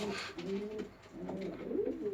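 Soft, throaty pigeon cooing, a few rolling low coos in close succession, near and fairly quiet with no talking.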